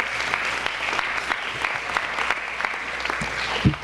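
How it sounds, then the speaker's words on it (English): Audience applause at a high school senior awards night, steady moderate clapping from a crowd with a few individual claps standing out near the end. "So give yourselves a round of applause."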